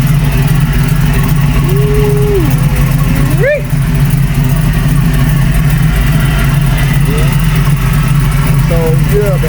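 A Buick Regal with a swapped LS V8 engine idles steadily and loudly up close, a constant low rumble running throughout with a brief sharper burst near the middle.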